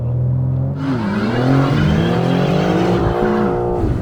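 A 2022 BMW M4 Competition Convertible xDrive does a burnout on the street to clean its tires, engine revving loudly and steadily with rising and falling pitch and tire squeal throughout, close and continuous.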